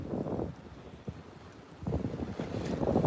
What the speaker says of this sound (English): How does the wind sound to you guys? Can you guys hear the wind?